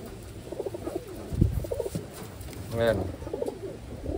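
Pigeons coo in soft, repeated throaty bursts close by, with someone speaking over and between the calls.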